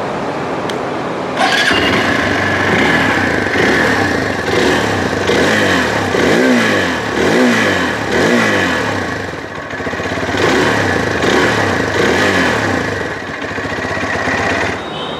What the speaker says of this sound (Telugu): ఒకసారి ఈ బైక్ ఎగ్జాస్ట్ నోట్ అయితే వినిపిస్తాను మీకు.